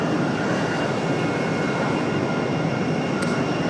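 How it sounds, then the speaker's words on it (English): A brief, steady wash of engine noise comes from an American Eagle aircraft in retro livery at Raleigh-Durham airport, fairly loud and unbroken with no one speaking. "Good look at the American Eagle retro livery."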